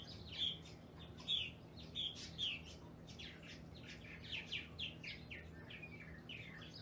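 Birds chirp outdoors in short, repeated bright calls, some nearer and some farther, over a quiet steady background hum.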